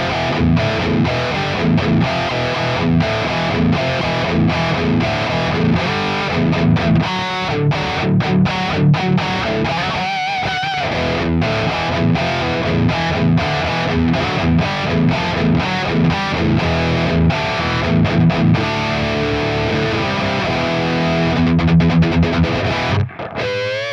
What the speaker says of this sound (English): And this is my distorted rhythm patch, and I'm not using any delay or reverb on that one.